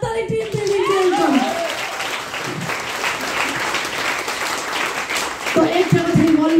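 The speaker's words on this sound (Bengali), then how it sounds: "তো জোরদার হাততালি টিম পিবি জন্য" Loud, sustained applause from an audience at a team event, with a voice speaking over it at the start and again near the end.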